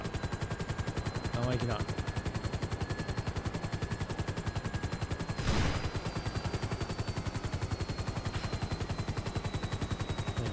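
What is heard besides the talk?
gunfire in video game Grand Theft Auto V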